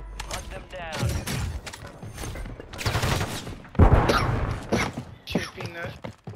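Rapid gunfire in Call of Duty on Rebirth Island comes as repeated SMG bursts and volleys, loud and close, mixed with game sound effects and snatches of voices.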